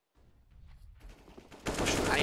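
Counter-Strike gunfire on the Inferno map during a tournament match, building from quiet scattered shots to a loud sustained burst at the end, under a caster's commentary.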